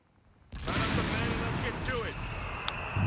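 A German leIG infantry gun on attack-ground auto fire in Company of Heroes 3 lets off a dense, continuous roar of firing and battle noise that starts suddenly and stays loud throughout, with a voice talking underneath.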